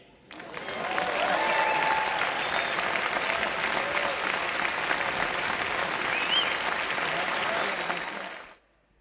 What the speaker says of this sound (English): I think we can extend the same round of applause to the room here